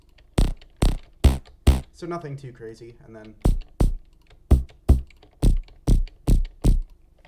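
Short, percussive Phase Plant synth plucks without effects in a steady rhythm, dry and close, with someone briefly talking in the middle.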